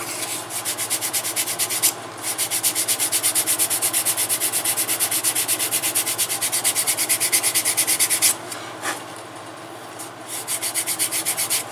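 Leather is sanded by hand with 400 grit sandpaper while making a skiving knife sheath. Fast, even back-and-forth rasping strokes run steadily, stop briefly, then resume.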